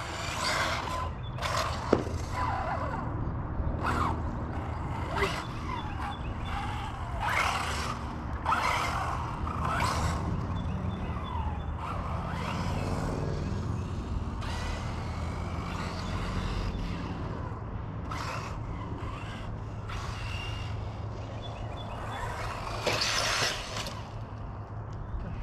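A Kyosho MP9e electric RC car driving, with whirring motor bursts and scraping, skittering tire noise on the surface, moderately close, coming in repeated short runs over a steady background hum.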